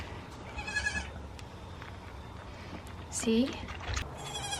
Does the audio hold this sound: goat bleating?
yes